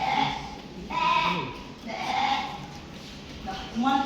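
Sheep bleats ring out during a storytelling performance at a regency-level competition, several drawn-out wavering bleats spaced a second or so apart, close and clear, likely voiced by the storyteller.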